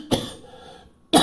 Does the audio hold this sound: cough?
yes